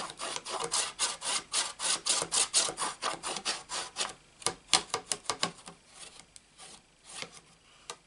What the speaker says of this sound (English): Rub it all down.